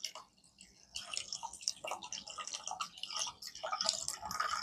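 An AC 220V mini aquarium submersible pump sprays water into a shallow tray, giving irregular close splashing, dripping and spattering that rises and falls and builds toward the end.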